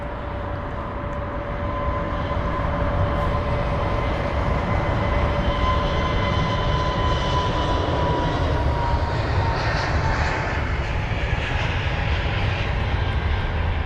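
Jet airliner departing London Heathrow for Manchester, its engine roar loud and steady throughout, a broad sustained rumble with a faint rising whine as it passes near.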